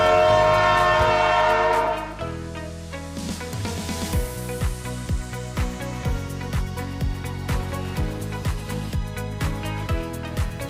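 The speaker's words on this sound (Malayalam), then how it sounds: "ട്രെയിൻ നേരെ ചെങ്ങന്നൂർ സ്റ്റേഷനിലേക്ക്" A train pulls into Chengannur railway station in Kerala, a loud sustained horn blast opening before giving way to steady rolling rumble and rhythmic wheel clatter over rail joints, with no voices.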